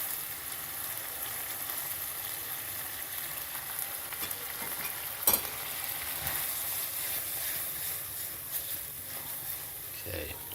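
Pan sauce with cheese melting in it, stirred in a pan over a faint steady sizzle, with a single brief clink partway through and soft scraping near the end.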